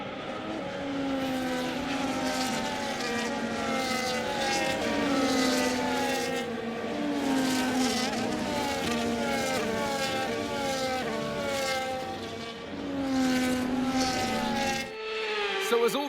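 Formation lap of Formula 1 cars in the F1 25 video game at the Canadian Grand Prix: steady droning engine tones with overlapping rising and falling pitch sweeps from several cars, continuous and fairly loud, ending with a brief shift near the close.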